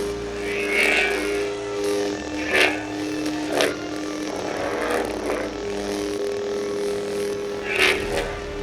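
A Luke Skywalker Galaxy's Edge legacy lightsaber holds a steady electronic hum while several sharp whooshing swings surge over it, close and fairly loud, with no talking.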